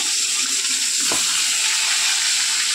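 Steady, bright hiss of fish frying in hot oil, continuous and close, with a brief soft bump partway through.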